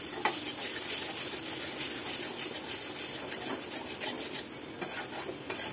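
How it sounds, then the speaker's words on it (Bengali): Spice masala is stirred continuously in a pan over a high flame, a faint, close sizzle broken by repeated scraping and rubbing strokes of a spoon. "এই সময় কিন্তু আগুনের ফ্লেমটা বাড়িয়েই রাখবেন এবং মশলাটা ক্রমাগত নাড়াচাড়া করবেন।"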